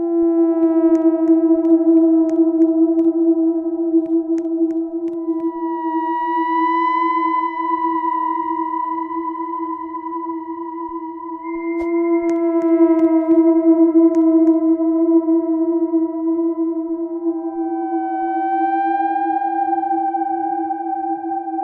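Scary Hampers sound from a Roblox game: a loud, sustained droning tone layered with wavering, siren-like pitched overtones that shift and swell steadily throughout, with no talking.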